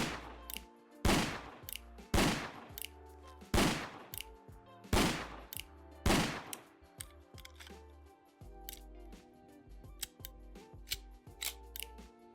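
Revolver rifle gunshots in Fallout 4 ring out as sharp, loud single reports about one per second, each followed by a mechanical cocking or reloading click, with lighter rapid clicks and shots toward the end.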